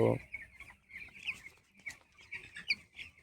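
Fifteen-day-old broiler chickens on a poultry farm, with a mild IBH problem in the flock, cluck and peep continuously in a busy, faint chorus with a steady background hum.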